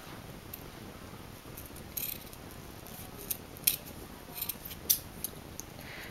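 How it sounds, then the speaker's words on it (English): Scissors snipping through fabric on a DIY seatbelt pillow, several close crisp cuts spaced unevenly, a couple louder than the rest, with no voices. "I'm gonna cut here."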